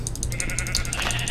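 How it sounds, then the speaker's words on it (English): Sheep bleating in the Minecraft video game, a repeated rhythmic bleat close and clear over steady low background sound, with no talking. "Nice! Sheep! Excellent!"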